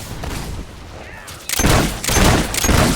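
Gunfire in the video game Fable 3 during a castle assault: a quieter stretch gives way to loud bursts of rapid volley shots, broken by a brief lull, fairly close.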